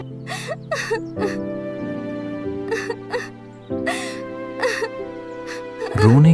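A girl sobs in short gasping bursts and whimpers, close and emotional, over a steady sustained musical backdrop, with a sharper cry rising at the end.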